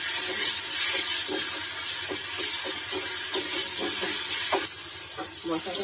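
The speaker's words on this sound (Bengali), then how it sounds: "মশলাটা এখানে বেশ সুন্দর ভালো করে ভাজা হয়ে গেছে।" Spice mix with tomato and salt frying in a pan for a Bengali tangra fish and pui shak dish, giving a steady close sizzle broken by repeated scrapes and clinks of a spatula stirring the mix.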